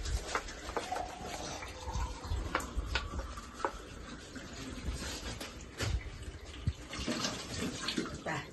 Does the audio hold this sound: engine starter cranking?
no